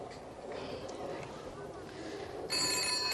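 An old-style telephone bell starts ringing partway through, loud and shrill after a stretch of muffled room noise and murmuring.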